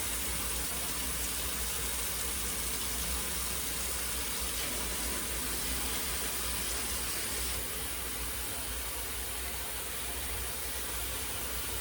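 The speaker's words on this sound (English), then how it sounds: "I'm gonna get some warm water going here" A steady, even rush of warm tap water pours continuously, filling the whole stretch with a constant hiss.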